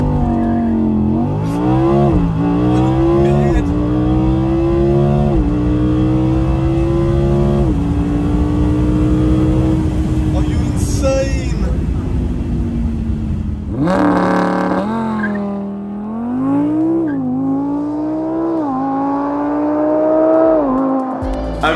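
An Audi R8 V10 Performance revs hard and accelerates through repeated gear changes, its loud, close engine note climbing and dropping in pitch over about twenty seconds, with a short lull before it rises again.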